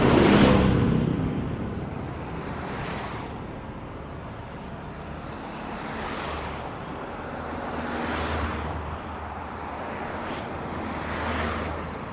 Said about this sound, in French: je vais laisser passer un tracteur et un cortège de voitures